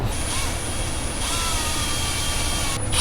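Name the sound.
power drill drilling out a hole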